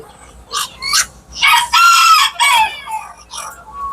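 Unvaccinated farm chickens give loud, near crowing with a drawn-out rooster call in the middle, surrounded by shorter clucks and squawks.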